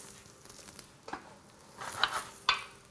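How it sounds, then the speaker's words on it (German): Artichoke frying lightly in olive oil in a restaurant kitchen, a soft steady sizzle with a few sharper crackles and pops near the end, no talk over it. "du brätst jetzt gerade die Artischocke in Olivenöl wieder an"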